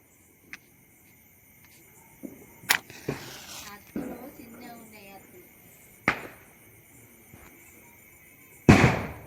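Diwali firecrackers and rocket bombs bursting outdoors: scattered sharp pops and bangs, some distant and one loud near blast at the end, with a whistling rocket streak and faint voices talking in between.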